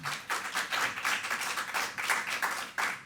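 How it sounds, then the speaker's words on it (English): A school board meeting audience gives a short round of light, steady clapping, fairly faint and distant, with no voices over it. "Certainly worth applause, yes."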